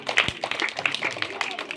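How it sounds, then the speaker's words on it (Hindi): A few scattered claps from a small group in a village home during a playful magician act, brief taps breaking through ongoing lively talk and chatter. "ताली बजाओ एक बार, ताली बजाओ"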